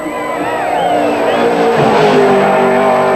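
A race car howls at about 243 km/h up Mountain Straight on a Bathurst top-ten shootout lap, a loud, high engine note sweeping upward as it climbs, with a commentator talking over it.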